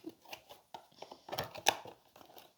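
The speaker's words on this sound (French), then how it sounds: "vous avez vu que j'ai coupé le scotch" Scissors snip and crinkle through packing tape at close range, a series of short crisp cuts and rustles with one sharper crunch in the middle.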